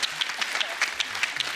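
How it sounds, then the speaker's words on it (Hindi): An audience applauds Paresh Rawal with steady clapping from a crowd, sounding fairly close and filling the space without voices over it. "परेश रावल जी के लिए जोरदार ताली हो जाए"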